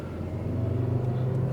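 A Volvo C70 five-cylinder engine drones steadily while the car drives on rough asphalt, a low humming rumble heard from inside the cabin and holding an even level.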